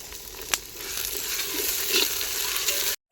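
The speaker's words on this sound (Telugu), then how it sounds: "ఈ వరగా పచ్చివాసన పోయేంత వరకు వేపుకున్నాను" Ginger paste and fresh mint frying in a pan for chicken biryani, a steady close sizzle with occasional stirring scrapes, alone, with a brief dropout near the end.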